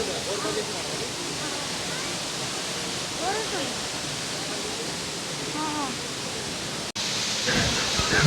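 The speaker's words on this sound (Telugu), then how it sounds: "చూడండి ఏ విధంగా నీళ్ళు ఎంత వేగంతో ప్రవేశిస్తున్నారు" Rushing water roars steadily and loudly at Tirumala hill, with faint voices audible underneath the constant flow.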